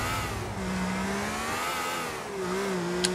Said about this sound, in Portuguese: O som desse carro correndo é muito delicinha